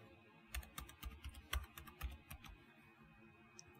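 Quiet, quick keystrokes on a computer keyboard as a password is entered, a light irregular patter of clicks with a few louder taps, close and alone.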